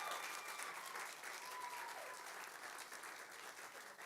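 An audience claps steadily at a talk event, a dense, even wash of many hands sustained throughout at moderate distance, with no voices rising above it.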